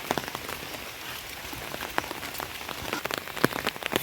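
Steady rain patters on a village road, dense and even throughout with scattered louder drops close by, no voices present.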